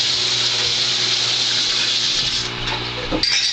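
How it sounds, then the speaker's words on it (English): Water runs steadily from a tap while something is rinsed off, a bright continuous hissing splash close by that shifts briefly near the end as the flow is disturbed, with no talking. "Rinse it off."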